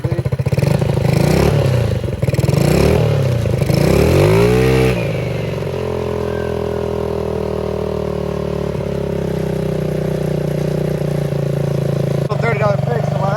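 A moped engine idling after a new carburetor install, first revving up and down several times, then settling into a steady, buzzy idle that holds close and loud to the end.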